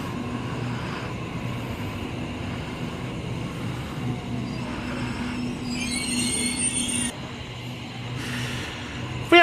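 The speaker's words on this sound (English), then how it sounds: "We have a Waratah arriving on platform number 4 for a Richmond service." Sydney Waratah electric train set arriving at a suburban station platform, a steady rumble of the approaching carriages with brief high wheel squeal and hiss in the middle and toward the end.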